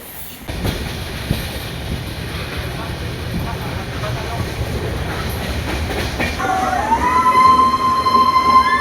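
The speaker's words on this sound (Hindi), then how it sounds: "ट्रेन स्लो ही चलता है, बिकॉज़ फास्ट वहाँ चल नहीं सकता है।" Train moving slowly along a curving mountain line in the Araku valley, a steady loud rumble of wheels and carriages that rises toward the end into a sustained high metallic wheel squeal, with people talking faintly beneath.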